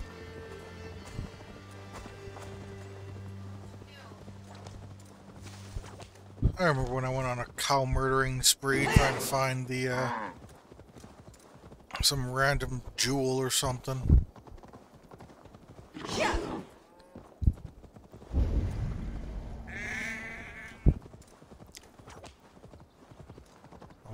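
Horse galloping in a video game, rapid rhythmic hoofbeats with a neigh, heard in bursts under someone talking over it.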